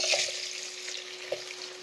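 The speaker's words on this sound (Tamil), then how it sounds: "வெங்காயத்தை போட்டதுக்கப்புறம் அப்படியே நல்லா வதக்கி விட்ருங்க" Onions sautéing in a little oil in a pan for a mutton head dish, a steady soft sizzle with faint stirring scrapes, close and fairly quiet, no talking.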